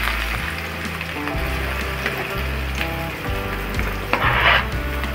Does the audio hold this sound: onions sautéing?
yes